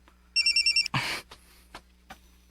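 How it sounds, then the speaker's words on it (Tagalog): A cellphone rings with a rapid burst of chirping electronic tones, quickly cut off by a loud rustling clatter and a few faint clicks. "bibagti ang cellphone sa kriminal"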